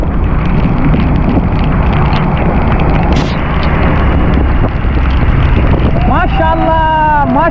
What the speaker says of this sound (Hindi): देखें कितनी तेज़ बारिश हो रही है यहाँ पे।